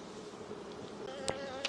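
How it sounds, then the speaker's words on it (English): Honeybees buzz around an old hive in a continuous, fairly faint hum, with a couple of individual bees zipping close past at moments. "all the foraging bees are over here in the old hive"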